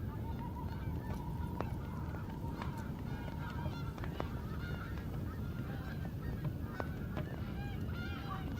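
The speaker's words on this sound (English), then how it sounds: "Hear them geese in the background." Geese honk repeatedly in the background at night, distant and faint calls scattered over a steady low hum.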